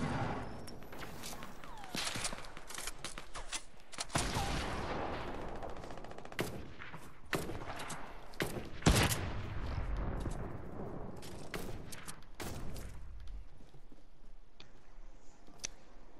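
Sniper gunfire in the Fortnite video game, with many sharp cracks and shots scattered irregularly across a busy, moderately loud battle mix.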